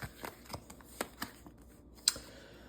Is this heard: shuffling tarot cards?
yes